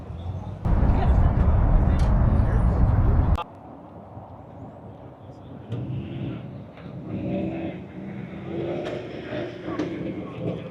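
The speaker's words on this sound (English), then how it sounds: "There's definitely a lot more cars right now than there were earlier." Cars arriving at a busy car meet in Sarasota: a loud engine rumble passes close for a few seconds, then fades, leaving quieter traffic and general outdoor noise from the lot.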